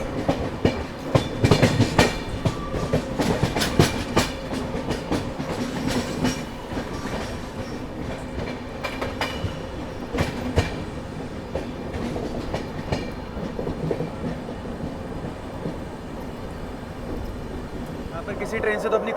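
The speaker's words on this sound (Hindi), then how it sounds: "किसी ट्रेन से तो अपनी क्रॉसिंग हो रही है" An Indian express train crossing another train, the Mahabodhi, heard from on board: a steady loud rumble with dense clattering and rapid rattles, strongest early, continuing throughout.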